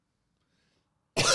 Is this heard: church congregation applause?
no